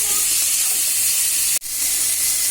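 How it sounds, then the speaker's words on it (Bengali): Prawns fry in hot oil in a pan with a loud, continuous hiss and sizzle, close up, broken only by one brief dropout in the steady spitting noise. "চিংড়ি মাছটা ভাজা হয়ে গেল"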